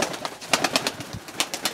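Pigeons coo in a loft in several soft, rapid throaty bursts, close and clear, with no talking.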